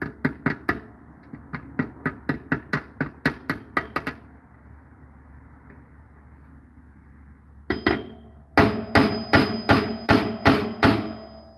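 Steel rivet capped with a washer being hammered on a brigandine, a run of sharp, evenly spaced metallic strikes, a quiet pause, then a second louder burst of ringing blows.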